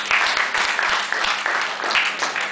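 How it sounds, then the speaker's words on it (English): An audience at an employability skills session claps together, giving dense, even applause that holds steady and close for the whole stretch. "Can you clap again?"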